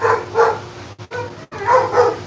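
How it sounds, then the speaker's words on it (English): Dogs barking nearby in loud, repeated bursts with brief gaps between them, heard alone without talk. "Damn dogs."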